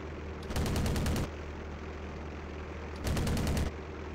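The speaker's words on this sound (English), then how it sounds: "Guns." Aircraft machine guns in a video game fire two short bursts of rapid rattling shots about two and a half seconds apart. Each burst lasts under a second over a steady engine drone, and nobody speaks.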